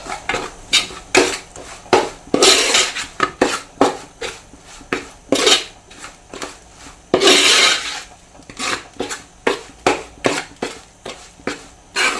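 Lubikka pickle being mixed with a spoonful of fenugreek powder in a pot: a spoon repeatedly scrapes and knocks against the metal in uneven strokes, close and fairly loud, with a few harsher rasping bursts and no talking.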